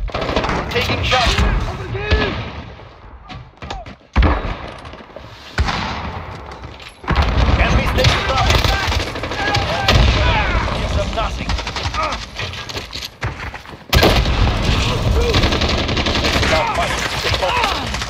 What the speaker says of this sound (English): Taking shots.